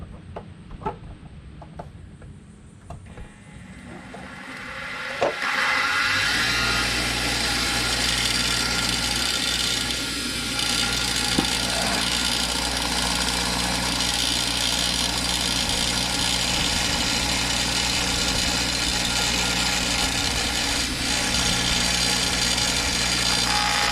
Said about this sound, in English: I'll be carving it on a grinder a little bit, and then my belt sander.